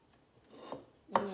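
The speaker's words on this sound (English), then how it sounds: "Scrape all this good stuff off the blades here." A spatula scrapes deviled egg filling off food processor blades with a soft rubbing, ending in one sharper, louder scrape near the end; close and brief, with no talking.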